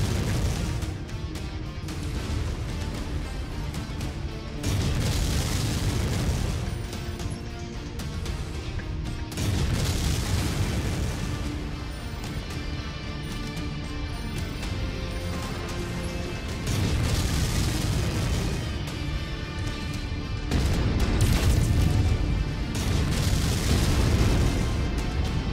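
LRM missiles launch and burst in MechWarrior 5, a dense stretch of booming explosions and pops layered over a continuous loud game soundscape, surging in several heavier waves.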